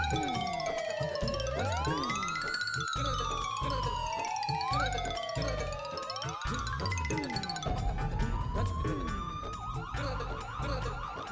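An ambulance siren wails loudly and continuously, its sweeping rising-and-falling tone close by and alone, with a busy residential society setting around it.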